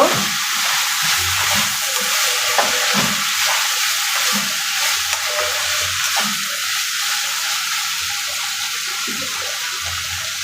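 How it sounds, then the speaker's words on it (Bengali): A curry sizzles in a pan while it is stirred, giving a continuous frying crackle with soft, irregular scraping bumps of the spoon. Nobody speaks. "এখন একটু সুন্দর করে নেড়ে চেড়ে দেব।"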